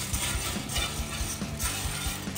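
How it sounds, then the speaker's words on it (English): Dry coffee beans roasting on a Blackstone griddle, whisked steadily toward a medium roast, give a constant close-up rattle and scrape with a rhythmic pulse of metal-on-griddle strokes; no one talks. "I am gonna whisk these for about 12 minutes. So as your beans are roasting, you wanna keep stirring them"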